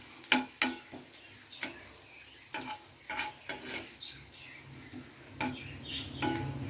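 Curry leaves, dried chillies and onion fry in oil with a steady faint sizzle, broken by scattered clicks and scraping stirs, close and fairly quiet.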